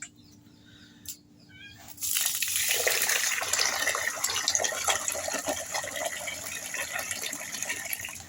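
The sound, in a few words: water poured over rice for soaking and washing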